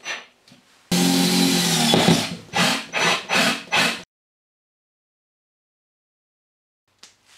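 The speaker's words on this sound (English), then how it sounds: "I'm just going to insert a screw through the plasterboard. And into the fixing" A drill drives a screw through plasterboard into an Ezgrip cavity fixing: one long whirring run, then three or four short bursts, close and loud, before the room falls silent.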